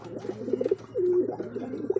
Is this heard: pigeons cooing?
yes